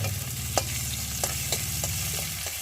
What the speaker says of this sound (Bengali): রসুনটা একটু ভালো করে ভেজে নিয়েছি